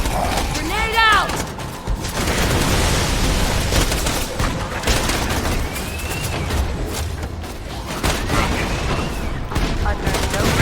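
Explosions and gunfire in the Borderlands 2 video game, a loud dense barrage of booms and shots with whooshing effects running throughout, alongside voices.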